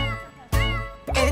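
Cartoon cat meows within a children's farm song, two or three bright, close, sustained mews with sharp onsets, set against music.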